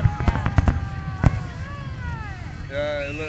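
Fireworks bursting over Kitsilano Beach in Vancouver during the 2012 display: a quick cluster of sharp booms early on, then one more loud crack, with people chatting nearby throughout.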